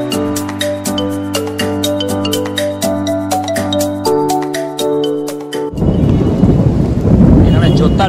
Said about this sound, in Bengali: প্রায় আধ ঘন্টা এক ঘন্টা জোর বৃষ্টি হয়ে গেলো, এখন ঠিকটা পড়ছে